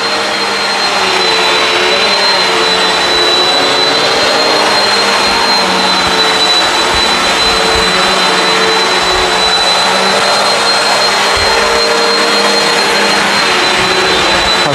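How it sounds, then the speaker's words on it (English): A Bissell CleanView Swivel Pet upright vacuum cleaner runs steadily on carpet, a loud continuous motor whine with a high-pitched tonal edge, close and unbroken for the whole stretch with no talking. "I've had many more expensive vacuums fail to groom carpets this well."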